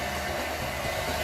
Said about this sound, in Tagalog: Gusto mo mag-blower? May blower pa.